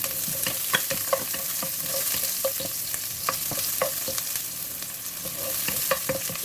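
Garlic and onions fry in a pan with a steady, close sizzle. Repeated sharp scrapes and clinks of a utensil stirring them run throughout, and no one speaks.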